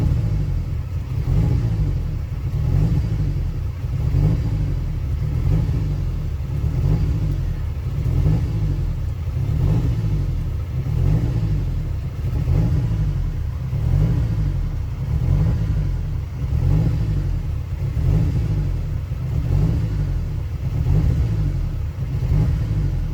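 A turbocharged Honda Element engine, its throttle body cracked slightly open, runs at a steady, close idle with a deep, pulsing rumble that rises and falls in an even, lumpy rhythm throughout.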